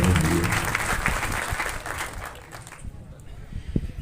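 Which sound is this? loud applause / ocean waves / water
loud applause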